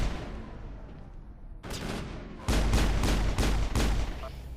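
A Mass Effect crossfire opens up, starting with a low rumble, then a burst of shots and a loud, rapid volley of heavy gunfire and blasts in the final seconds.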